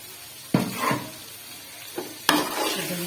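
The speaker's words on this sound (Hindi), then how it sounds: "दही को जो है वो भूनेंगे" Yogurt being fried with masala in a pan for Peshawari Shinwari chicken karahi, two separate bursts of stirring and sizzling over a low background hiss.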